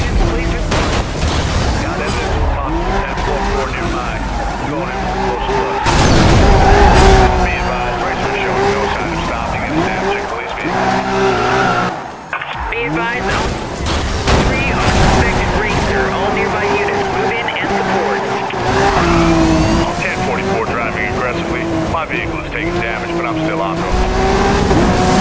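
A high-speed racing car screams along in a police chase game, its engine whining and shifting while tires squeal and skid; thuds and crash-like booms cut in, and voices talk over the racket.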